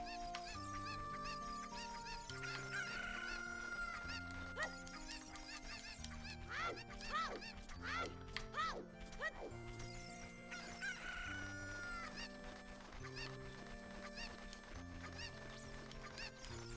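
Cuckoo chickens from The Legend of Zelda: Ocarina of Time 3D cluck and crow in game, their bird calls layered over continuous background music at steady volume throughout.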